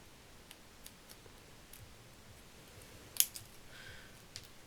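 Scissors make a single sharp snip through a vintage sewing card, close and clear over quiet room hiss, with a few faint ticks and rustles around it.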